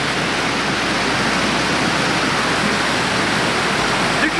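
Shanti Falls waterfall in Chikmagalur roars as a steady, loud, unbroken wash of falling water close by, with no voices over it.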